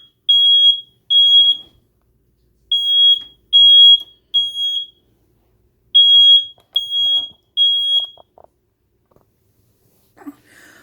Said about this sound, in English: Oh, it made the smoke alarm go off.